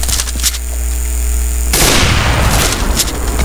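Sniper rifle fire in the Roblox game, a loud booming blast that rolls into a sustained harsh crackle after a humming lead-in.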